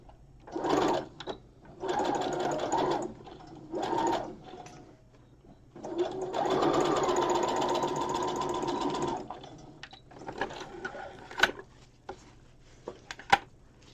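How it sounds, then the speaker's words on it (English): A sewing machine runs in several bursts while stitching quarter-inch seams with backstitching on both edges of a small 18-inch doll's tea dress bodice, with a longer steady run in the middle and brief quiet pauses between passes. "so we're going to go and sew just a 1/4 inch over back stitching on both edges."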